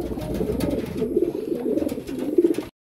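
Racing pigeons coo in soft, throaty, repeated rolling calls, close by and steady for a few seconds before cutting off abruptly.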